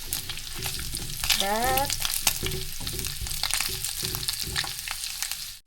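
Onions fry in a pan for a green bean and meat stir-fry, a steady close sizzle with stirring scrapes and clinks, as a voice talks briefly over it.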